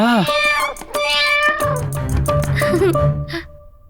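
A cat meows repeatedly, clear and close, in a comedy scene where it refuses cooled milk, with rising and falling cries and a voice or music underneath.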